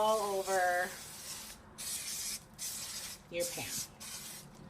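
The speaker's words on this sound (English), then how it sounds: "So if you're using spray, you want to spray it all over" Non-stick cooking spray is sprayed onto a pan in several short, close hissing bursts, with brief speech at the start.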